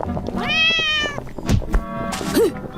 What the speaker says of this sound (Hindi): अचानक बिल्ली कहीं से घुस गई जिसने यागा को चौंका दिया।